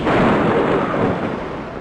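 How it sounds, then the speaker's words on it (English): A thunderstorm sound effect from the 1994 computer game Imagination Express: Destination Castle, a loud, broad rumble that begins abruptly and slowly fades over about two seconds, with no talk. "Start with a nice day and add a storm. A terrible storm?"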